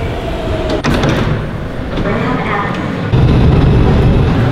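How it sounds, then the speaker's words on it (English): A New York City L subway train rumbles close by while doors slide and thump, followed by a louder, heavier roar of the car. "we just got off the L train"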